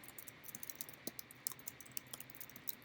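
Faint, quick keyboard typing as code is entered, soft irregular clicks under a steady background hiss.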